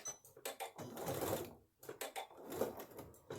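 A sewing machine back stitches a dress seam in short bursts, quietly and close by, the rapid needle clatter starting and stopping.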